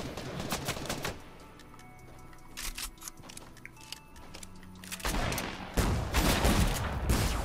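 Assault rifle fire in Fortnite comes in loud rapid bursts, a volley at the start, scattered shots in the middle and heavy sustained firing toward the end.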